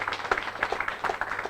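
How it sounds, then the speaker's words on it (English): Conference audience applauding a speaker, a short burst of scattered clapping from a small crowd, close and moderately loud. "Give a round of applause for Jarpe"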